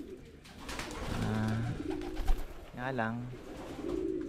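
Pigeons cooing in a breeding loft: deep, throaty, rolling coos that repeat close by, with a voice speaking over and between them.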